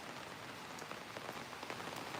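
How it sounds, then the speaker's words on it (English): Steady rain patters onto surfaces throughout a residential subdivision in the Philippines, an even, dense hiss with occasional louder drops and no voices. "We got rain, baby."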